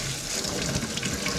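Water from a tap runs steadily to clean out a mud crab, a close, constant hissing splash with no pauses.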